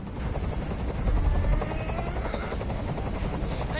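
A helicopter in Detroit: Become Human hovers close by, its heavy low rotor thump throbbing steadily and loudly throughout with a faint whine on top.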